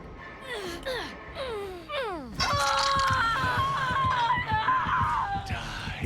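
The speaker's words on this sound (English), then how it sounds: "What a scream, oh my gosh." In the horror game Dead by Daylight, a character gives out drawn-out wailing screams that rise and fall, then one long loud shriek holds over a busy, crackling game background.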